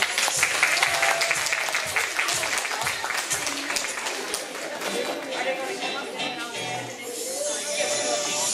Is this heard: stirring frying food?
no